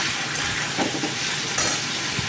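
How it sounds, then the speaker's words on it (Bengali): Spices with Kashmiri chili powder, a little sugar and tomato sautéing in a pan over moderate heat, a close steady sizzle with a few stirring scrapes and no talking. "ভালো করে কষাতে হবে, আমি কষাচ্ছি, বেশি জোরে আঁচে দিয়ে কষালে হবে না"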